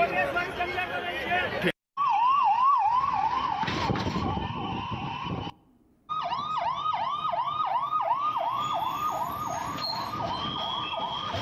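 Sirens of fire brigade vehicles and ambulances at the Ahmedabad Air India plane crash site, loud wailing and rapid yelping tones cycling repeatedly, with brief cuts and overlapping sirens amid street noise.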